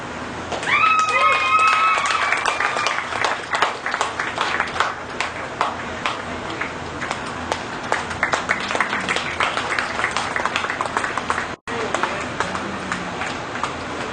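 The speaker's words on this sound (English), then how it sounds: "please help me show our appreciation by giving them a big round of applause" Audience applause at a Central New York dairy cattle show, honoring the champion cows; dense, steady clapping fills the whole stretch with some voices mixed in, cutting out briefly near the end.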